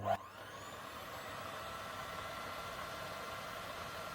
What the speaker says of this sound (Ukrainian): Та включаю міксер на маленьку швидкість.